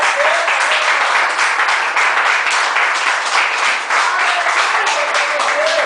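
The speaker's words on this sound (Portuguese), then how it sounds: "Quantos podem glorificar, bater palmas para Jesus?" An evangelical Pentecostal church congregation claps hands in praise, producing a loud, continuous wash of claps from a large group, steady throughout with small swells.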